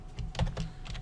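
Keystrokes on a computer keyboard while filling out a purchase requisition form, a quick irregular run of close, fairly quiet taps with no talking.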